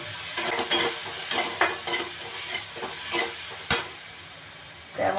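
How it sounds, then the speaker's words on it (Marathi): Green chillies sautéing in a pan, a soft crackling sizzle broken by repeated scraping stirs of a spoon, close by, with one sharp clink near the end. "थोडीशी मिरची वगैरे परतून घेते"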